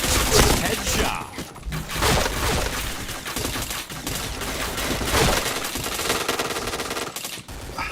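Rapid automatic gunfire from the online shooter Point Blank, dense bursts of shots running nearly continuously with brief gaps, loud and close, with faint voices underneath.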